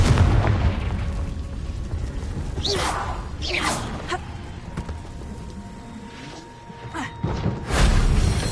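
Confringo fire spell explosions in a Hogwarts wizarding video game, several bursting booms and whooshes spread across the clip over a rumbling game soundscape, with a loud final blast.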